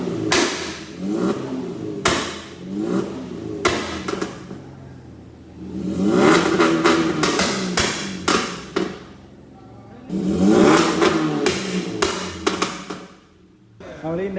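Car engine revving hard through the exhaust, with three loud surging bursts separated by idling gaps, sharp thuds and clatters scattered throughout, close by.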